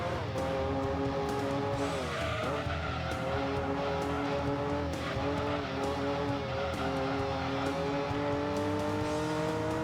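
A light race car of roughly 400 to 500 horsepower in Gran Turismo 2 drones steadily at high revs, its engine pitch dipping and climbing through gear changes, loud and continuous with no voices.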